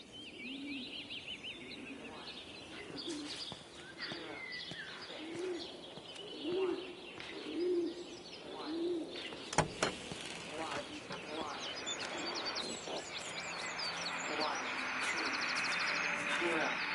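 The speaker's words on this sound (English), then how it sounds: "I look to my birds, Father." Pigeons or doves coo in a steady repeated rhythm inside the video game Everybody's Gone To The Rapture, with chirping birds around them, and someone speaks over the calls in a quiet outdoor scene.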